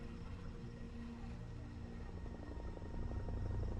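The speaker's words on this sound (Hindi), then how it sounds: "आई थिंक कोई जा रहा है ऊपर हेलीकॉप्टर में। हेलीकॉप्टर्स वगैरह भी हैं यहाँ पे।" A helicopter flies overhead in the video game Far Cry 3, heard as a faint, steady rotor drone that thickens into a low pulsing toward the end.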